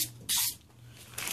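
Spray paint goes on in light coats in short hissing bursts, one longer burst early and another starting near the end, with quieter room tone between them.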